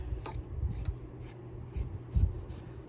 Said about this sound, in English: I'm going to slide this out and I'm going to trim around all that batting